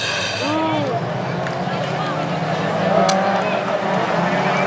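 Race cars, including a Mégane Coupé, at a 2015 Fol'Car event in Dreux, roaring steadily on track with engine whines sweeping up and down, loud and continuous under a commentator's voice.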